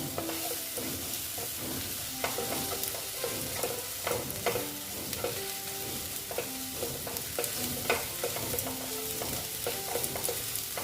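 Katla fish curry masala sizzles and fries in a pan while a spoon stirs and scrapes with repeated clinks, a continuous low frying hiss under the intermittent metallic stirring strokes, no talking.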